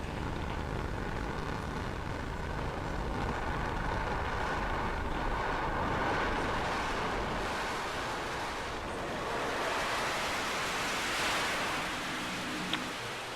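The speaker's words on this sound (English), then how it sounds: "Stage 1 landing burn has started." A rocket first stage fires its landing burn in fog, heard as a steady, broad, rushing roar that holds at an even level for the whole stretch, with no voices.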